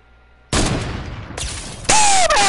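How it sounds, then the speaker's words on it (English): Sharp gunfire goes off in a Fortnite match: a loud burst of shots hits suddenly, then a second burst follows, and a final louder blast ends on a ringing tone. "Where did that gunshot came from?"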